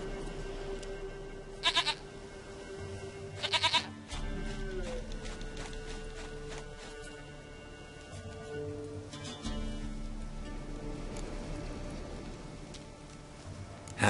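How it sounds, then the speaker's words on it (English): Short, bright bleats come from a goat in The Witcher 3, three separate cries spaced across a calm outdoor soundscape with soft ambient hum and no speech. "Goat of mine, dearest, sweetest goat."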